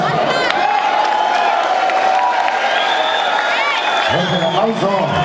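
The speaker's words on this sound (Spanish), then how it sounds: "El aplauso al grupo de Diablos de Talajás, edición 2024." A crowd applauds and cheers at the Toreada de los Diablos festival in Tanlajás, Huasteca Potosina, a steady dense wash of clapping with whoops and mixed voices throughout and louder shouts near the end.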